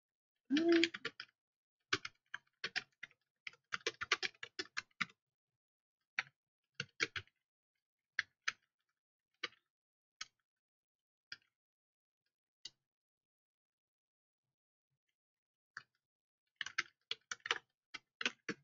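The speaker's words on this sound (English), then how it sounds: "So whenever you hear me typing" Typing on a computer keyboard in scattered bursts of crisp, close key clicks separated by quiet pauses, with denser flurries at the start and end.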